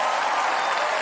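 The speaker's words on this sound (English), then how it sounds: "Keep the applause going for the magnificent Diego Torre and Victor Valdez." Dense, steady applause from a large concert audience at an Australia Day concert, filling the whole moment with continuous clapping and crowd noise after an operatic performance.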